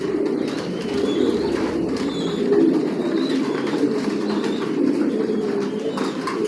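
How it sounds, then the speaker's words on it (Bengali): Racing pigeons in a loft cooing continuously, a dense chorus of low rolling coos from many birds close by, steady and fairly loud with no talk. "কোয়ালিটি সম্পন্ন কবুতর পালতেছি।"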